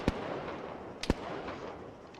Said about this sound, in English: He's taking pot shots with an auto rifle.